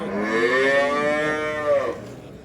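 A cow at a Kırıkkale livestock market gives one long, loud moo lasting about two seconds, close by, with no talk over it.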